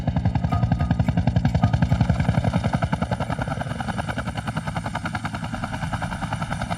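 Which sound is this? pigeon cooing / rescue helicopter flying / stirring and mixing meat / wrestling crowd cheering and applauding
rescue helicopter flying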